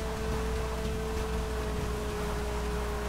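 Steady rain in Grand Theft Auto 5 falling near a stormy beach, an even, continuous hiss with a faint steady tone running beneath, no talk.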